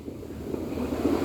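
Strong sea waves wash and surge against the shore in a steady low, rolling rush, mixed with some wind buffeting, brief and with no voices.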